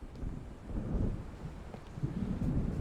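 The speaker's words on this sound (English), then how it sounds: "It seems there's a storm coming." Thunder from an approaching storm near the sea in the Alan Wake video game, low rolling rumbles swelling and fading under wind and waves, a continuous dark roar with no voices.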